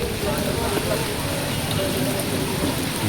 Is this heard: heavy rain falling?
yes